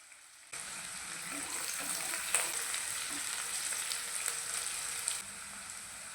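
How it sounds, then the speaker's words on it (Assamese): Sliced onions and green chillies frying in hot oil over a medium gas flame for an Assamese duck dry fry: a steady close hiss of sizzling that starts abruptly and carries on evenly, with a few faint stirring clicks and no speech. "এতিয়া পিঁয়াজখিনি অলপমান ৰঙচুৱা হোৱালৈকে ভাজি ল'ম।"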